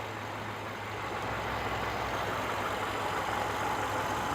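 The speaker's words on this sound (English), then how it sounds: "Engine is idling very happily." A cold 2007 Subaru Outback 2.5i engine idles steadily and evenly, a low continuous hum with a faint higher whine, close and unbroken with no one talking.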